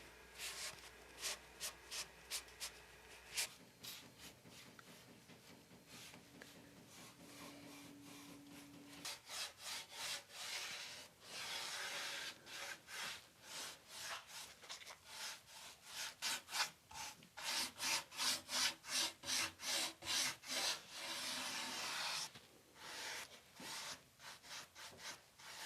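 Clear and black wax rubbed onto the wooden drawers of a 170-year-old Empire dresser, heard as repeated rhythmic scrubbing strokes at close range, coming in bursts with short pauses and no voices.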